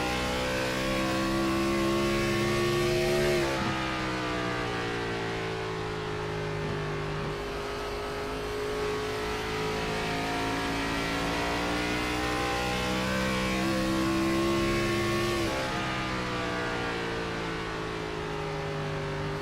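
Race car engine in an IROC Challenge Series race at Iowa, heard from the onboard cockpit cam of a racing sim: a loud, steady, close drone whose pitch sweeps up and down through shifts and throttle changes, with no talk.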